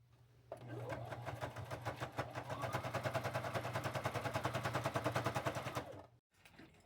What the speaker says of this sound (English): I'm fixing to put a seam all the way down